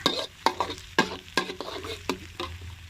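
Pounded dried chili and garlic stir-fried in a wok for a crispy-pork kaprao dish. A spatula scrapes and clacks in short, regular strokes over a steady close sizzle of hot oil, with no talk.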